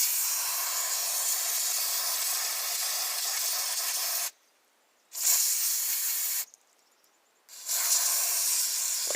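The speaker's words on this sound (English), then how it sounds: "I'll do a little spraying on the outside here just to clean things up" Cleaner spraying under pressure onto the outside of an old 1960s MTD LawnFlite mower, a loud steady hiss in long bursts broken by two short pauses.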